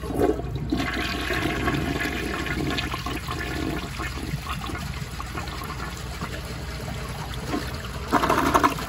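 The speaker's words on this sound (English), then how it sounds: "I'll do another flush like this" A round 1977 Vitromex toilet flushes in one long continuous rush of water, loud and close, swelling again near the end as the bowl refills.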